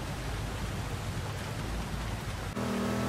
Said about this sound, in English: Got baseball, the golf ball sized hail pouring outside.